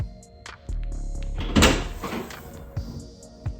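A BMW X5 tailgate fitted with new struts and springs swings open nearby with a mechanical whir and a couple of soft thuds and clunks, and no talking.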